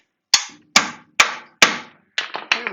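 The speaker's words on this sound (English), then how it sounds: "I'm going to do a little tappy with a heavy hammer." Several heavy hammer strikes ring out close by as a CV axle is driven home on a 2009 Kubota RTV 500, four spaced blows followed by a quicker cluster of lighter taps.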